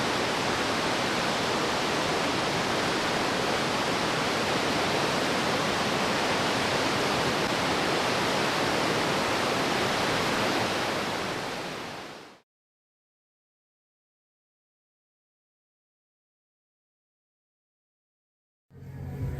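Steady broadband rush of river water flowing along a riverbank in Wyoming–Montana country, loud and constant for about twelve seconds, then dropping to silence before resuming briefly at the end.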